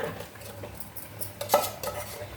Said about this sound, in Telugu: ఉడికిపోయిన శనగపప్పు ఇందులో వేసేస్తున్నానండి చక్కగా